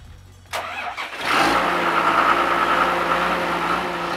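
Powerful diesel engine on a Sandvik DE710 diamond core drill cranking with a couple of sharp starter bursts, then catching at about one second and settling into a loud, steady close-up idle.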